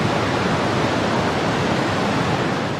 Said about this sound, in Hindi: आप सरस्वती नदी की आवाज़ सुन लीजिए